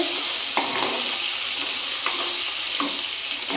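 Coriander leaves and kasuri methi hiss and sizzle steadily in hot tempering oil for a shahi paneer gravy, with a few soft stirring scrapes in the pan and no voices.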